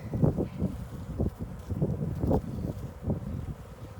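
Gusty wind buffets the microphone outdoors beside an open beehive, producing uneven low rumbling bursts that swell and fade with a faint rustling background.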